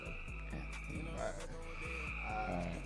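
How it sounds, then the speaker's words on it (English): Many frogs croak together in a faint, continuous chorus of rapid rhythmic pulses that repeat without a break, sounding somewhat distant. "I know them frogs is going crazy right now."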